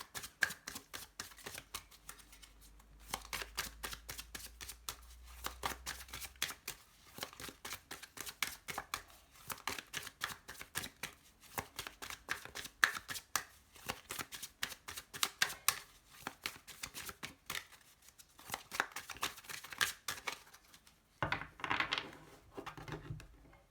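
A deck of tarot cards is cut and shuffled in a quiet room, making a long, dense run of soft riffling flicks and slaps that come close and steady, with a brief pause before a final burst of handling.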